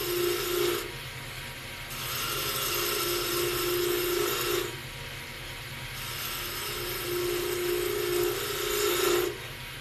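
Wood turning on a lathe with a short roughing gouge, cutting downhill: a close, continuous rasping scrape over the hum of the spinning lathe, the cut easing off and resuming in repeated passes.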